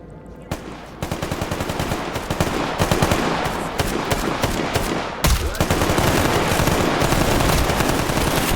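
Rapid automatic gunfire from a survival video game, loud, dense bursts of shots hammering almost without pause throughout.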